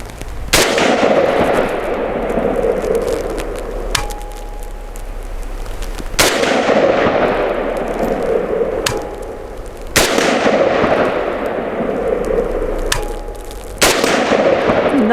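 Four loud WBP Fox rifle shots fired outdoors at a 6-inch target at 48 yards, roughly three seconds apart. Each sharp crack rolls off into a long echo, and a faint metallic ping follows a few of them.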